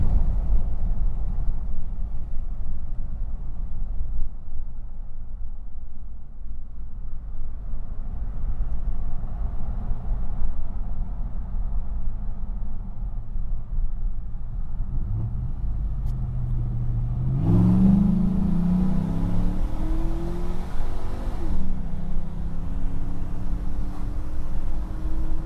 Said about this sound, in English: then I'll go full throttle so you guys can hear it again